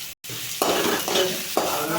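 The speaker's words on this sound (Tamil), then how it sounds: "பிறகு நறுக்கிய வெங்காயத்தை அதனுள் போடவும்." Onions hitting hot oil with a loud, hissing sizzle, close up, with stirring scrapes as the frying noise swells in waves.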